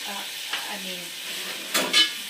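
Onions caramelizing in a pan for French onion soup, a steady soft sizzle with a couple of brief scraping stirs near the end, close by with no talking.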